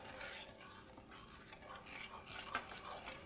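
A spoon stirs heavy cream into a butterscotch sauce mixture in a pot, giving soft, continuous scraping and swishing at close range.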